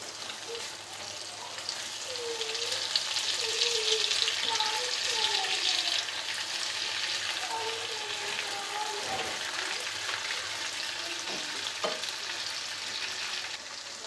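Ghee frying in a pan sizzles steadily with soft, gentle stirring scrapes, a close, continuous crackle with no talking over it.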